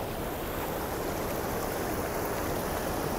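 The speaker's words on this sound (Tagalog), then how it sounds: "naririnig nyo yung lagaspas ng tubig" Steady, broadband rush of moving water at a lake in Alhair Lakes Park, Saudi Arabia, continuous and fairly close, with a windy, surf-like wash and no voices.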